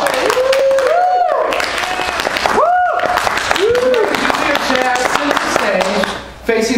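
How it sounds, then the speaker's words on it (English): An audience at a hypnosis show applauds a volunteer, with loud, sustained clapping and crowd noise while someone talks over it and swooping musical tones sound in the background. "Give her a round of applause."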